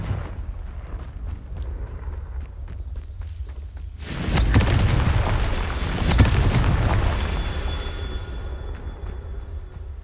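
Confringo fire spell explosion in the video game Hogwarts Legacy, a sudden loud burst that swells into a sustained roaring blast, with a second surge a couple of seconds later over low background game ambience.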